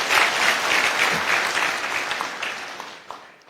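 A church congregation of the Mount Kenya South Diocese breaks into loud, sustained applause. The clapping is dense and close, easing slightly toward the end.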